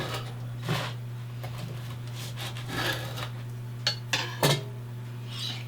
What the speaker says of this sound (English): Cut this bread.